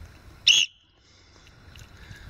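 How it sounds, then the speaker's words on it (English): A single sharp, shrill blast from a small whistle on a hiking lanyard, loud and brief against quiet outdoor background. "Even though there's a whistle here, this one is a better whistle."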